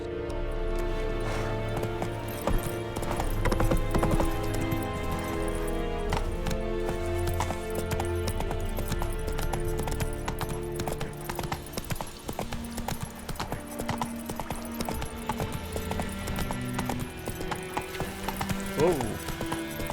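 Horse hooves clip-clop rhythmically in The Witcher 3 as the mount moves along, with game music and occasional mechanical clicks, while someone talks over it.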